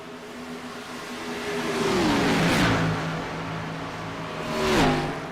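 Stock race cars in a BRRA Cup Series race at Atlanta Motor Speedway in 2008 roar past in a pack, engines droning loudly and then swooping down in pitch as two passes sweep close by.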